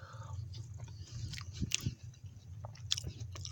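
Chewing on crunchy lentil and carrot soup with chunks of meat from a Russian 24-hour marching ration, close bites and crunches repeating irregularly over a low steady background.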